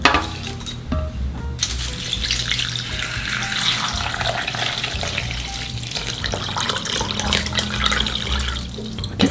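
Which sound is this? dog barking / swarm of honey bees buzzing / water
water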